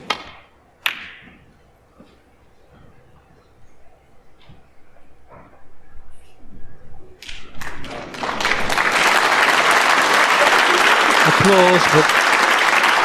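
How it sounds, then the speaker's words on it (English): Applause breaks out in the arena at a snooker match, building from scattered claps and quiet taps into a full, sustained round of clapping from the crowd. "Applause"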